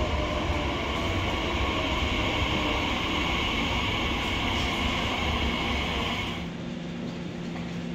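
A Heathrow Express airport train rumbles steadily with a constant hum and rattle, then the noise drops slightly near the end as it settles.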